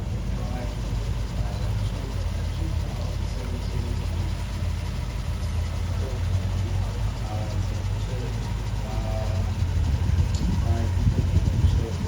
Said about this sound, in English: So this is 60s glamour, V8 engine of course, a very nice lazy V8.